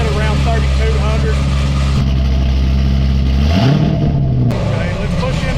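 An older car's engine held at a steady high rev around 3,200 rpm on a two-step limiter, a loud continuous drone whose pitch drops and wavers near the end as the limiter engages.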